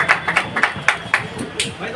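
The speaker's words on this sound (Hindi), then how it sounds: "जोरदार तालियों से" An audience at a BJP political gathering welcoming new members claps in a quick, fairly even rhythm, the sharp claps close and loud, with voices mixed in.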